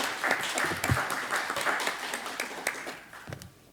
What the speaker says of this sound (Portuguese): Fica um aplauso